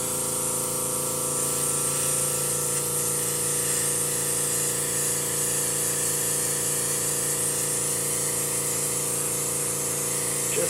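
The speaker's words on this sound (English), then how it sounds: "So what I'm going to do is just hold it up here against the backdrop and just spray into it" A continuous hissing spray of an airbrush painting a backdrop, with a steady mechanical hum underneath, unbroken and fairly close, with no talking.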